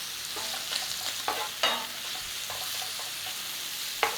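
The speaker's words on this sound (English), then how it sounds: "Next job, bacon. In your pan. Now just cook it to how you like." Bacon fries in a pan with a little olive oil, a steady close sizzle broken by occasional scrapes and stirs against the pan, with no talk.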